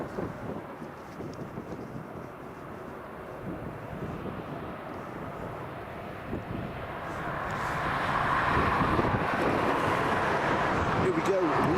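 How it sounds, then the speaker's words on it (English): Airbus A330 bound for Seattle at Dublin Airport, a broad engine roar swelling louder in the second half as it approaches, with a voice speaking over it. "we've got this Airbus A330 heading over to Seattle"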